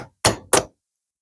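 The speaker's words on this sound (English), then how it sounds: "I can knock that down with a hammer or a screwdriver." A hammer knocks twice on a part of a New Holland TN70A tractor's 3-point hitch during seal repair, two sharp, close metallic whacks in quick succession.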